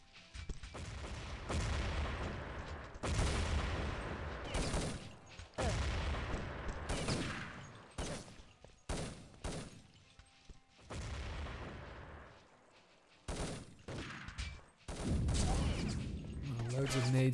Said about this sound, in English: Loads of nades being tossed